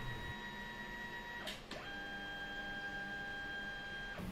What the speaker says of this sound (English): Press copy shortcut, and then the machine starts scanning one side of the identification card.